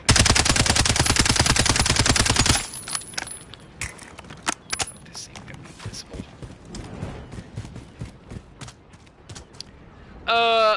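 Gunfire in Call of Duty at a target about 22.5 meters away: a loud sustained automatic burst for the first few seconds, then scattered single shots and sharp impacts, ending in another loud burst.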